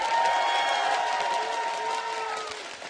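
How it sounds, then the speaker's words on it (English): A crowd at a League of Legends esports match between SK and CLG applauds and cheers steadily, a dense, fairly loud wash of clapping and voices that fades slightly toward the end. "let's give them a cheer"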